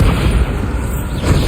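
A Bombarda spell blast in a Harry Potter video game, a loud, deep rumbling boom that fills the whole moment and holds at a steady level.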